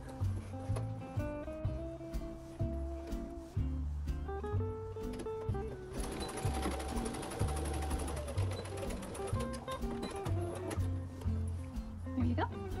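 A sewing machine tacks strapping onto a fanny pack, running in a fast, steady mechanical rhythm close up, with brief pauses and restarts.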